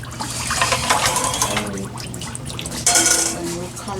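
Running water pours and splashes as raw chicken is rinsed a second time to wash off vinegar, a close continuous gush with a brief surge partway through, while someone talks.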